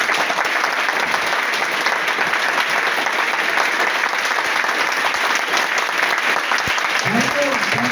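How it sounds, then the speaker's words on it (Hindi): Seminar audience in Delhi applauding: dense, loud, continuous clapping from a large crowd fills the room throughout, with a brief voice near the end. "तो वंस अगेन इन सभी के लिए एक बार जबरदस्त क्लैप होनी चाहिए।"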